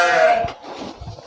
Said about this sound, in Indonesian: Nah, kali ini saya ke kandang kambing lagi di kota Surabaya.